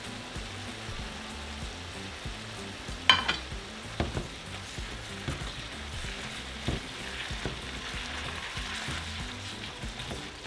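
Steak and tomato frying in a pan for steak and shrimp tacos, giving a steady low sizzle with a few sharper stirring clatters near the start, quiet and fairly close with no talking.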